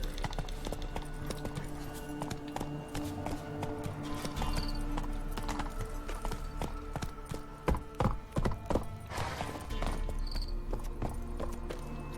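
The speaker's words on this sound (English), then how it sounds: "Run, Roach" Roach, the horse in the video game The Witcher 3, gallops with rapid, rhythmic clip-clop hoofbeats that stay close and fairly loud throughout, with a soft whinny in places.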